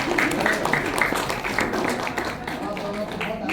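Guests clap during an Arya Samaj temple wedding ceremony in Noida, a loose patter of hand claps in a roomy space, with people talking over it.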